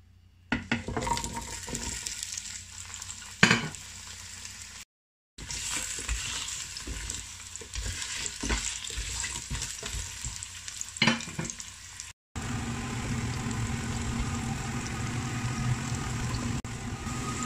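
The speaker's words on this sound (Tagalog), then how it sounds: "Ngayon, ipiprito ko siya." Taro pieces frying in hot oil, a steady sizzle with occasional stirring clatters, briefly cut by two short gaps before the frying continues evenly and close.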